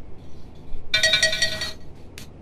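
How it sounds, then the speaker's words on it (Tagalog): Phone text message alert tone, a short bright chiming burst of under a second over quiet background, followed by a brief faint ping. "Ni Adelfa tinag-text"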